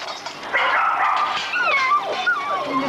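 Young puppies, about a month to six weeks old, yip, bark and whimper close by, a string of high, wavering cries and short yelps running continuously over a few seconds.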